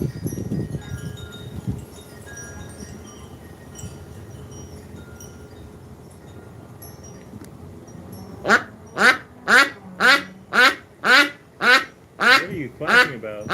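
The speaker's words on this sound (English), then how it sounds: "What are you quacking about?" Ducks on a livestream give a run of about nine loud, evenly spaced quacks near the end, after a long stretch of quiet background murmur and faint voices.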